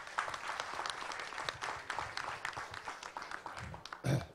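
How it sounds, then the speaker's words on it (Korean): Audience applause at a Korean venture forum as the chairman is welcomed to speak, a steady faint patter of many clapping hands with a louder burst near the end. "큰 박수로 모셔볼게요."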